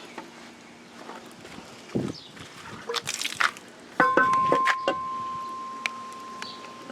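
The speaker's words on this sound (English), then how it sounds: "the old water pump off." Metallic clanks, taps and a sloshing trickle of coolant come as an old water pump is pulled off a 2000-2006 Chevy Suburban engine. The close, intermittent workshop sounds include a brief faint tone.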